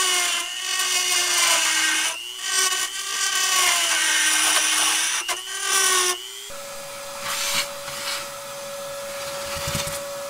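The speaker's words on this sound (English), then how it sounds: "I'm going to try and Dremel this out and see if we can get that space for that bolt to go through there." Dremel rotary tool grinding out a plastic part to make clearance for a bolt during a manual transmission swap, a loud close high whine with pitch dips as it bites, then a brief stop and a steadier tone.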